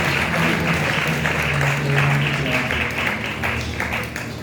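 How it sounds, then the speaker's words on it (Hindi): A church congregation claps together in a dense, even wash of applause that runs steadily throughout, with faint voices mixed in beneath. "खुदावन के लिए जोरदार तालियां"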